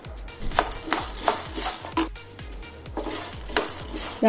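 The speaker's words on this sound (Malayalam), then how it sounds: "കൈ മാറാതെ ഇളക്കി കൊടുക്കണം, അല്ലാന്നുണ്ടെങ്കിൽ ഒരുപോലെ വറുത്ത് നമുക്ക് എടുക്കാൻ പറ്റത്തില്ല" Maladu ingredients are roasted in a pan over a low flame, with a spoon scraping and stirring in steady, rhythmic strokes and faint sizzling underneath, close and without talk.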